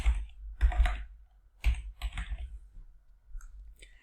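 Computer keyboard typing in a simulation software exercise: quick bursts of close, crisp key clicks, a few clusters of keystrokes with short pauses between, no voice over them.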